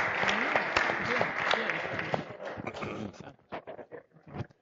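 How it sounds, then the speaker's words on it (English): Audience applause at a poker tournament for the winner, dense clapping at first that thins into scattered claps, with voices talking over it toward the end. "So, Round of applause,"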